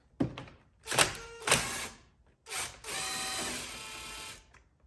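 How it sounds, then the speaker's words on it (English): Nuts on a Stihl chainsaw carburetor come off with an 8mm deep socket: several short, close ratcheting bursts and thunks, with pauses between turns, loud at first and then quieter, with no voices. "to remove the carburetor here, we're going to take these two nuts off right here."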